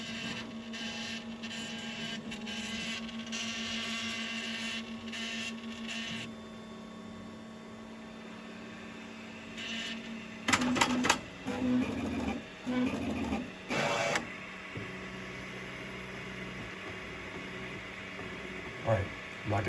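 Snapmaker 3D printer making odd mechanical noises in a home: a steady motor and fan hum runs throughout, with several short loud bursts of whirring and clunking in the second half.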